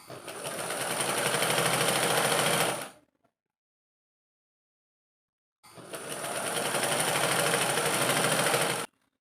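A sewing machine stitches a princess kurti in two steady motor-driven bursts of about three seconds each, separated by a brief pause, close and loud with no talking.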